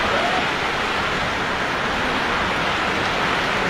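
Heavy rain pours outdoors in Chandpur, a loud, constant hiss of downpour that holds unbroken from start to finish with no voices.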